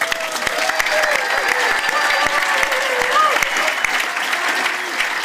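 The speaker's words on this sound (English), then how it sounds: "That gets a lot of applause already, Bob." Outdoor audience at a rainforest day event applauding Bob Brown, a sustained, full wash of clapping from a sizeable crowd that holds steady throughout with scattered sharp claps on top.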